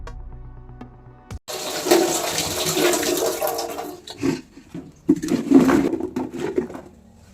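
Peeled Chinese potatoes (koorka) are washed in water, a loud continuous sloshing and splashing that starts abruptly after a quiet moment and keeps churning with uneven surges until the end.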